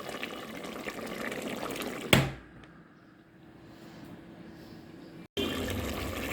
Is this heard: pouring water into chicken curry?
yes